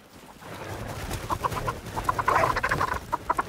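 Ptarmigan birds cluck in the game The Red Lantern, a flurry of quick repeated calls building over a rustling ground noise, close and fairly loud.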